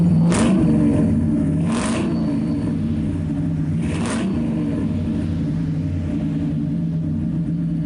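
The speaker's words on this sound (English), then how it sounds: "The roar of heavily modified dune buggies soon filled the air." Steady, loud engine rumble of heavily modified dune buggies with a few throaty revving surges, roaring continuously close by.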